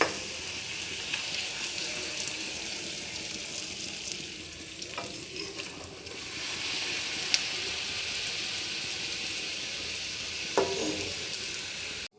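Puri or potatoes frying in oil in a kadai give a steady, close sizzle throughout, with occasional brief stirring scrapes and crackles.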